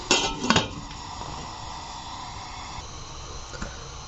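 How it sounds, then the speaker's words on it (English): A pot of stockfish set down on a gas stove and covered with its lid gives a couple of sharp metallic clanks up close. A low hiss and soft scattered knocks follow. "I'll take it straight to the gas. I will cover it."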